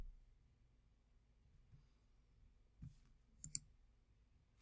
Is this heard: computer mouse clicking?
yes